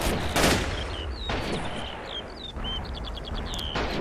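MG34 machine gun firing in the WWII strategy game Men of War: Assault Squad, Operation Barbarossa battle, bursts of gunfire at the start and again later amid constant battle noise, with chirping bird calls in the background.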